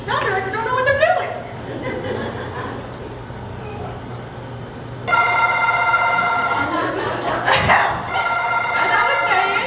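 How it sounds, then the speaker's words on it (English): Phones ring out during a high school play, a repeated electronic ringing starting midway and persisting over a murmuring audience, with chuckles and voices underneath. "can someone make y'all's phones ring?"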